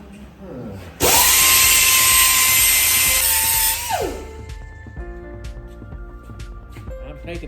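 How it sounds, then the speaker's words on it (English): Power grinder cutting down a small rusted section of metal in a rust repair, a loud close high whine lasting about three seconds before spinning down, with someone talking before and after. "I'll grind that little section down."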